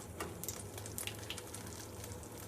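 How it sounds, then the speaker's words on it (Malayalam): Mustard seeds crackle in hot melted coconut oil for a Kerala-style okra fry, a steady close sizzle with scattered small pops over a low hum, with no voices. "നമുക്ക് അതിലേക്ക് ആദ്യം തന്നെ ആസ് യൂഷ്വൽ കടുക് പൊട്ടിക്കാം."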